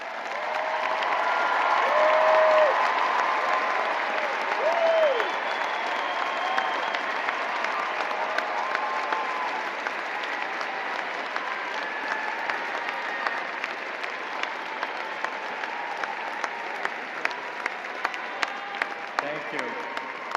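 A commencement audience at a Florida State University spring graduation breaks into sustained applause for standing honors graduates, a dense wash of clapping that swells early and then holds steady, with crowd murmur running beneath it.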